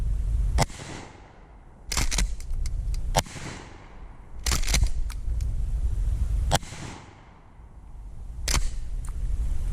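A trench shotgun fires outdoors at helium balloons: several sharp, loud blasts spaced a few seconds apart, some in quick pairs, each with a short echoing tail over a low background rumble.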